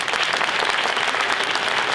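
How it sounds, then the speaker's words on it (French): Steady, dense applause from an audience at a mentalism show in the Zénith de Strasbourg arena, clapping continuously throughout at a fairly loud level. "Vous pouvez l'applaudir à nouveau."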